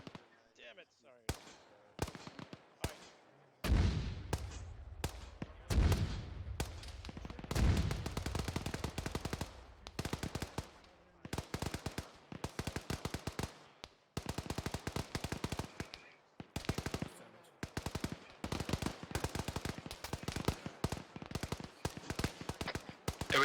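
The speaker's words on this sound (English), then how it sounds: "They're being engaged by weapons right now." Gunfire at a military field training exercise: scattered single shots and rapid bursts, some sharp and close, others fainter, with short silent gaps between volleys.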